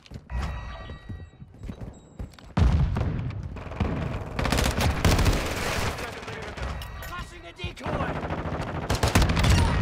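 Rapid bursts of automatic rifle fire from the Tempus Razorback in Call of Duty, loud and dense, with sustained volleys and short pauses, intensifying after the first few seconds.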